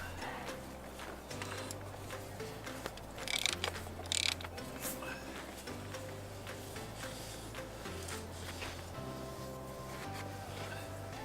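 A hand ratchet tightening the fuel filter cap on a 2006 Ford F350, making a rapid run of close, crisp clicks in repeated even strokes.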